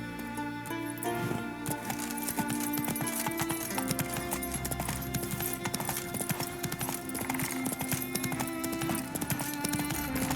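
In The Witcher video game, a horse trots with rapid, steady clip-clop hoofbeats, loud and close, under a busy game soundscape.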